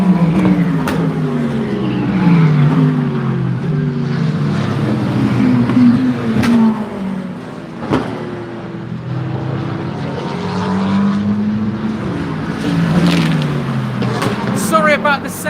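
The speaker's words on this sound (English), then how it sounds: "I think sound will be an issue on the stream because these cars are very, very loud indeed" Loud GT race cars at Silverstone circuit roar past continuously, with engines rising and falling as they pass, nearby and dominant, while a voice talks underneath.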